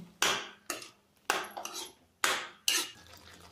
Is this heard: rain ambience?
no